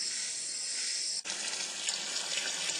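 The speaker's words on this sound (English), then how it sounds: "Taking a break and getting some water out of a stream." Water drawn from a stream in the Amazon rainforest during a break from carving a canoe, heard as a steady close rush of running, splashing water with a brief dip partway through.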